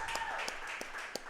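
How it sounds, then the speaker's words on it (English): Applause from a small audience at a True Texas Barbecue restaurant during a live coach's show, a soft steady patter of clapping with a few sharper claps standing out, sustained throughout. "Let's give them a round of applause for having us out here."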